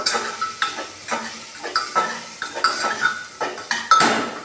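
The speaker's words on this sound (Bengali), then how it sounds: "সব একসাথে করে আবার একবার নাড়বো" Potatoes and spices are stirred inside a pressure cooker, with a metal spoon scraping the pot in quick repeated strokes about twice a second over a faint sizzle, loud and close.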